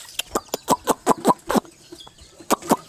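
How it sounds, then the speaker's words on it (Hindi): Chickens cluck close by in a quick series of short, loud clucks with a brief lull before a few more, heard alone without talk. "तो ये मुर्गियाँ देखो, इनको डाल देते हैं उनके घर में।"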